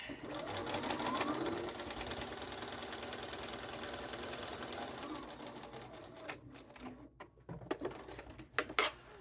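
A sewing machine stitches a cuffed sleeve for a Daring Duster coat, running in a continuous close buzzing whir for several seconds before stopping, followed by a few clicks and fabric handling noises.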